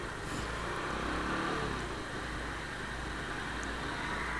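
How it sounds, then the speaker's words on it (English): Busy street traffic in the Philippines with cars and motorcycles, a steady faint wash of engine and road noise from passing vehicles at a distance, with no clear single pass-by standing out. "it's quite busy even in here with traffic"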